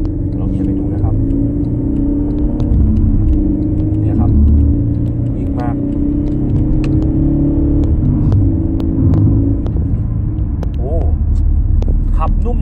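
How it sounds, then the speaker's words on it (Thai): A 2011 Mercedes-Benz E250 CGI accelerating on an open road, heard from inside as a steady, loud low engine and road rumble that holds level throughout, with someone talking over it. "ถนนโล่งเราจะลองเหยียบให้ดูว่ารถนุ่มนวลขนาดไหน"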